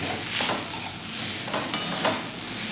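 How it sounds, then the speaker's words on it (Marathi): Freshly grated wet coconut stirred in ghee in a pan over a low flame, giving a steady soft sizzle with scraping stir strokes at intervals throughout. "आता आपण हे तुपावरती बारीक गॅसवरती छान असं आपण ओला नारळ आपला परतून घ्यायचा आहे।"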